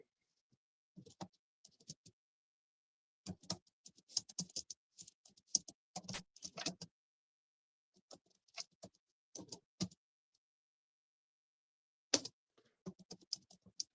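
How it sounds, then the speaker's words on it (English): Computer keyboard typing in short, irregular bursts of quiet clicks separated by pauses, close by and faint. "Judas, let me type this in."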